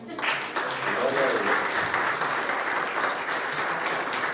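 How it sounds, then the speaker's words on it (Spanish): Church congregation applauding during a Spanish-language Sunday school service, steady dense clapping that stays loud and even throughout, with a faint voice briefly underneath. "Un aplauso a Dios"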